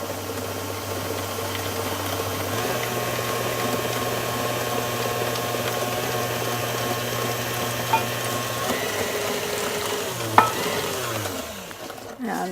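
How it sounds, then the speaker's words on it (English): Dissolved gelatin being gradually beaten into a mixture in a bowl, a steady whirring of a mixer with a low motor hum, a couple of sharp taps, and a brief pause near the end. "we're going to gradually beat in the dissolved gelatin"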